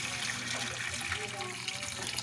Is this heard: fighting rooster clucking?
no